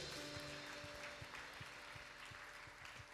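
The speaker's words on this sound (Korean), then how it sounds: "주님 앞에 감사의 박수를 올려드립시다" A church youth service congregation applauds in thanks, a faint, distant wash of clapping under a sustained hum and held tones, with soft rhythmic low thumps running through.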